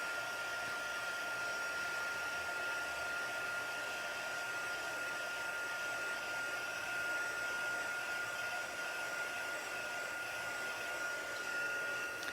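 Handheld dryer blowing hot air over wet VersaFine pigment ink on a stamped card: a steady, close whirring hiss with a constant high whine, unbroken for the whole stretch.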